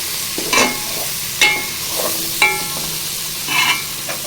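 Bitter gourd and tomato curry sizzles in a pan over a medium flame, stirred in four or five distinct scraping strokes spaced about a second apart over a steady frying hiss, close and with no voices.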